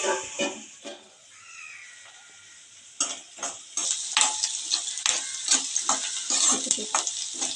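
Chopped onions and green chillies fry in a pan for a snake gourd curry, giving a soft sizzle under frequent stirring scrapes and ticking clicks of a spatula. The stirring grows busier and louder after a quieter start.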